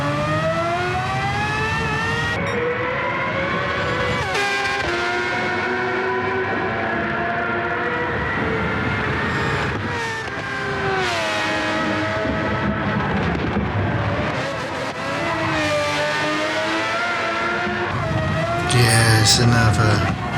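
Red Bull X2019 race car engine in Gran Turismo 7, racing at the Nürburgring 24h circuit, a loud high-revving whine that climbs and drops through gear shifts, steady and continuous, with someone talking over it.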